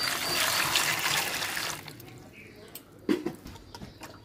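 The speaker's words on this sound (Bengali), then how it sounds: "গাজর বাজার থেকে আনার পর আমি ভালোভাবে ধুয়ে নিছি, তারপর আরেকবার একটু ধুয়ে নিতেছি।" Running water pours and splashes as carrots are rinsed, a steady loud stream that stops abruptly, followed by quieter handling clatter and small drips.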